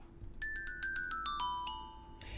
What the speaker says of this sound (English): And here are those same notes being performed on a glockenspiel.